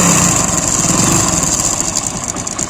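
A motorcycle engine idles loudly and steadily at close range, a fast mechanical rattle from the timing chain, which was recently replaced, running through the drone without a break.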